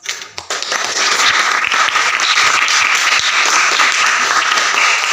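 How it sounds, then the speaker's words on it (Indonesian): A classroom audience applauds a group of students after their presentation, with sustained, dense clapping that starts with a few scattered claps and quickly swells into steady loud applause lasting throughout. "kita berikan aplaus untuk kelompok 2"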